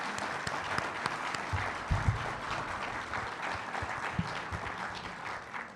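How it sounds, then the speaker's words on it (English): Audience applause at a Chamber of Commerce luncheon in a convention center, a steady wash of many hands clapping in a large room, moderately loud and sustained with a few nearby thumps. "could we also give Eric a round of applause for his incredible leadership at the Chamber?"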